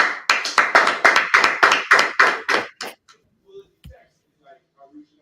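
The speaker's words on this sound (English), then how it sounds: "Everyone clap it up." An audience at a religious gathering claps in a quick rhythmic burst of about a dozen sharp, loud claps, then stops abruptly, leaving a few faint scattered sounds and a soft thump.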